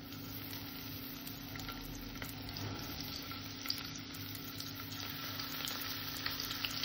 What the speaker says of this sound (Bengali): আমি মাছগুলো ভেজে নেব।